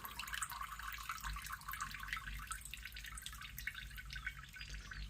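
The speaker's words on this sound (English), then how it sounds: "Hold that and let it drain." Wood treatment liquid drips and trickles off a wooden beehive piece as it drains, a steady patter of small splashes close by, with no voices.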